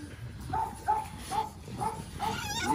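Puppies at a breeding kennel of French bulldogs and American bullies give a run of short high yips and barks, about six evenly spaced over a few seconds, close by over steady background noise.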